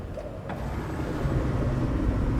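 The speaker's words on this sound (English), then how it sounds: "You hear the diesel engines come to life and the electric engines come to life" Diesel and electric ship engines spinning up in the game The Last Caretaker, a steady low rumbling drone that builds slightly and holds, with no talking.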